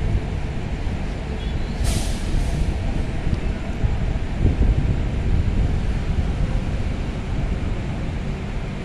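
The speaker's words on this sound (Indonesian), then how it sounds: "Malam ini anginnya kencang nih, hanya mau hujan." Steady low rumbling wind buffets continuously at night by a ferry dock before rain, loud and broadband, with a brief hiss burst near the start.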